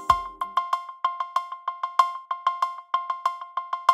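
An 808 cowbell, processed into a synth texture in Ableton with echo, plays a quick repeating metallic pattern of bright clanking hits with short decaying tails, steady and clear with no voices.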